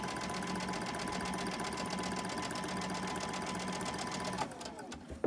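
A sewing machine chain stitching a long, heavy fabric strip for a Christmas tree quilt project, running in a steady, continuous close-up whir that stops near the end, followed by a few faint handling clicks.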